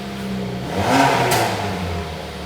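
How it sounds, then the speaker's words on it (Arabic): A Dodge Charger's sports engine revs up with a rising roar, peaks, then eases back down to a low rumble, close and fairly loud. "محرك سبورت مسوي"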